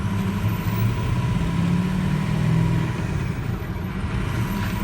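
A 2006 Ford F250 manual 4x4 pickup is driven, its engine a steady, moderately loud drone with a slight swell in the middle and no talking.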